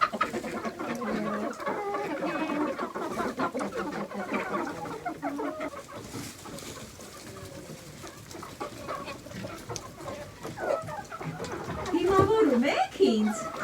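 Hens cluck repeatedly at close range in a backyard coop, mixed with a person talking over them, and the bird sounds grow busier toward the end.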